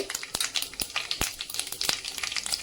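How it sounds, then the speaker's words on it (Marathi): Mustard seeds and cumin sizzle and pop in hot oil for a spicy Maharashtrian amti, giving steady close frying hiss broken by sharp, irregular crackles and seed pops. No talking. "ते तेल तापलंय यामध्ये घालायची मोहरी जिरे"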